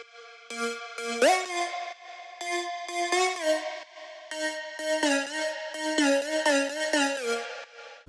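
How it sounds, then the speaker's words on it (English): A Serum synth lead built from a saw wave rounded toward a square, playing a bright, buzzy melody of short stepped notes with brief gaps, loud and alone, for a remake. "Last up is the lead sound, which sounds like this by itself."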